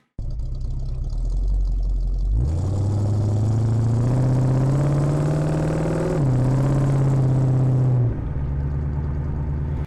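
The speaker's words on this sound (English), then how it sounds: "Next, just the exhaust, which we know is going to be good." A car's exhaust, picked up on close microphones, idles low before surging into a loud sustained rev that holds steadily, dips once briefly, then drops back to a rumbling idle.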